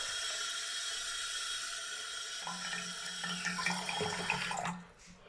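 Tap water running into a container in a bathroom, a steady close hiss of flowing water whose pitch rises as it fills, then the flow cuts off abruptly near the end.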